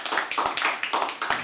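Live audience applause at a poetry open mic at The Habitat, heard as a few distinct bursts of clapping roughly every quarter to half second, moderately close and steady through the short stretch.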